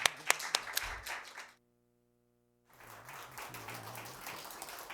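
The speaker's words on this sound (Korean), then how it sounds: "목사님 큰 박수로 우리가 힘을 실어드리겠습니다" A church congregation standing to applaud the pastor, with scattered nearby claps at first, then a brief complete silence, then broader clapping returning at a moderate, somewhat distant level.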